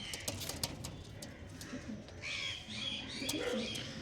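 Pigeons of an old-line, traditional gauge breed coo softly at a home loft gate, with faint chirps and a brief flutter of wings around them.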